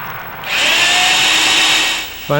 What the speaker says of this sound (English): drill right through the base of the principal rafter